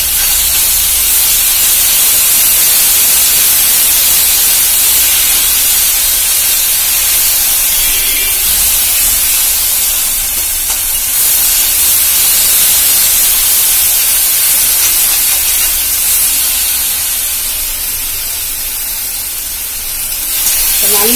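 Senna flowers (avarampoo) sautéing in a pan, a steady loud hiss and sizzle that runs unbroken throughout with no pauses.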